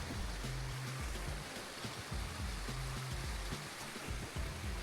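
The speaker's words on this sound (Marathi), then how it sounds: "एकदम असा खळखळ खळखळ पाण्याचा आवाज यायला लागलाय" A strong, gurgling stream rushes steadily near Visapur fort after rain, a continuous broadband wash of water with low churning pulses, close and loud, with no talking.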